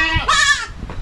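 Female goats on a small farm bleat, a loud wavering cry rising and falling near the listener, with a second shorter call following.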